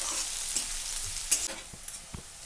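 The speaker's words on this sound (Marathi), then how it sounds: "कांदा पण लसूण लाल झालाय, कांदा टाकून घेतला." Onion and garlic sizzling in a kadhai while being stirred, a close steady fry with scraping strokes and a few sharp clinks of the spoon against the pan.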